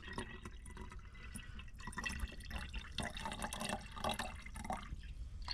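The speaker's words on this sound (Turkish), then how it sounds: "Biz burada Artemia'yı şu an yıkıyoruz." Fresh water running and splashing while artemia brine shrimp are rinsed, a steady close trickle with scattered drips and splashes throughout.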